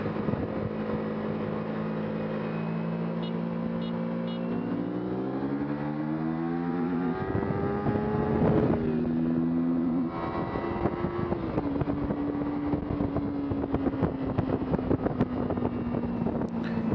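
A Kawasaki Ninja 300 and a KTM RC390 race in a rolling drag, engine notes rising steadily through second gear to the rev limiter, with heavy wind rush over the microphone and no talk.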